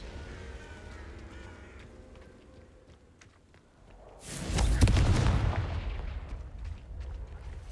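A Confringo spell bursts eggs in the Hogwarts Legacy video game, one loud booming blast midway that slowly fades, after quieter game ambience.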